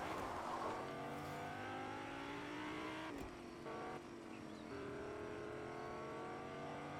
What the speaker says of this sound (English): you could literally drive this car all the way down there and rotate in that side